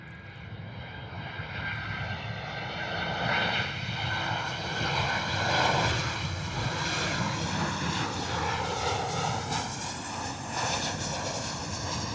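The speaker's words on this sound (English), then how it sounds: "Ryanair coming in." A Ryanair airliner approaches to land at Bristol Airport in wet, windy weather, its loud engine roar sustained and swelling slightly as it passes close by, with no talking.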